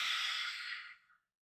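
A single long breathy exhale during a guided breathwork session, soft and airy, tapering off over about a second before silence.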